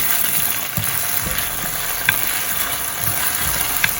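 Potatoes fry in a pan, a steady close sizzle with soft stirring scrapes and a few sharp clinks of the spoon against the pan.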